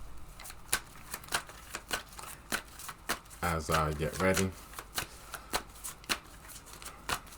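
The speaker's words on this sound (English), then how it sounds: "And you might hear shuffling the cards" Tarot cards shuffled by hand in a run of crisp riffling bursts, regular snaps spaced through the clip, with a brief stretch of speech in the middle.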